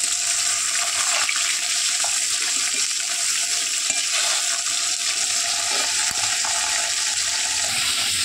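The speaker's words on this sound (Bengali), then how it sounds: "দেখো মাছ ভাজা হয়ে গেছে" Fish frying in a pan, a loud, continuous sizzle and crackle of hot oil that stays steady and close throughout, with no talk.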